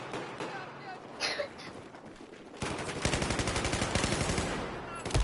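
Rapid automatic gunfire in the video game Battlefield 4 rattles steadily through the second half, preceded by quieter game noise with a faint voice.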